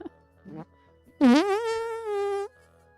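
A person's voice imitates a fart, a loud buzzing raspberry lasting over a second, preceded by brief vocal sounds.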